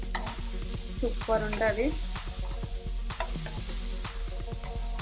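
Pineapple pieces sprinkled with a pinch of salt roast on a pan over a low flame for a home-style barbecue, giving a steady close sizzle with scraping stirs and light utensil clatter, while a voice speaks briefly.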